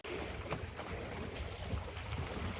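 Steady wind rushing past the microphone with water sloshing against a moving sailboat heading toward Bénodet, constant and fairly loud throughout.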